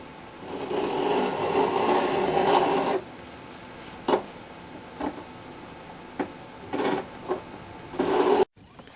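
A file rasps a 45-degree bevel onto the fret ends of a Washburn guitar, first as a continuous scraping stretch, then as short, separate strokes with pauses between them.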